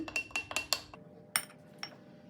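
Olive oil and red pepper powder stirred together in a bowl with a spoon, giving a quick series of close, bright clinks and taps against the bowl, several in a row and then a few scattered knocks.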